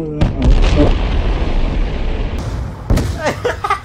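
A car burning in the video game Call of Duty Black Ops 2 gives loud, rumbling, explosive bursts and crackle, with a sharp blast near the middle and shouting voices over the din.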